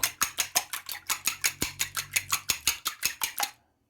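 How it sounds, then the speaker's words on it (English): Cutlery scrapes and clinks against a bowl in a quick, steady rhythm of about sixteen strokes while ingredients for crispy KFC-style chicken nuggets are stirred together, close and fairly loud, then it stops abruptly. "Then we're going to mix it well"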